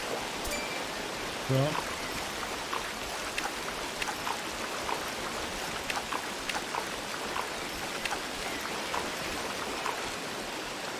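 Flowing river water splashing steadily around feet while walking through it in a forest game, constant soft rushing with small droplet patters and a brief louder splash early; a voice speaks once briefly.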